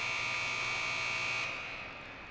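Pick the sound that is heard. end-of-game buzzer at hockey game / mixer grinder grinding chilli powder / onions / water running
end-of-game buzzer at hockey game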